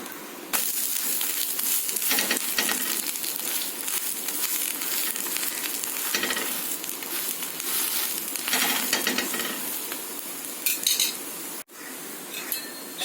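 A watermelon rind adai fries on a hot pan after being flipped, a steady close sizzle broken by scraping and clinking of a metal spatula against the pan, with no talking.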